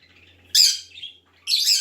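Ring-necked parakeet perched on a person's shirt gives two loud, shrill squawking calls about a second apart, close by and with no talk.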